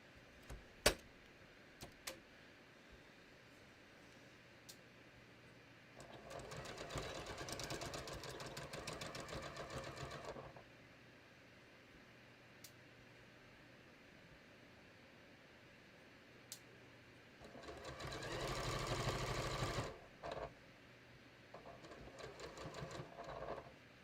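A sewing machine stitching a raglan sleeve top runs in two steady bursts of rapid mechanical whirring, each several seconds long, separated by quiet room tone with a few scattered clicks and handling taps.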